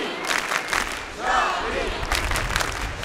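A crowd at a street demonstration in France claps and cheers, with loud bursts of shouting and applause mixed with nearby voices and chatter.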